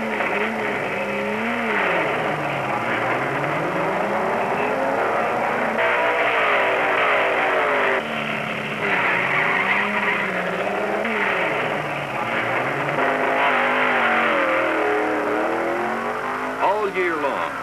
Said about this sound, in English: millions of people come to watch thousands of cars try to get from one end of a quarter-mile track to the other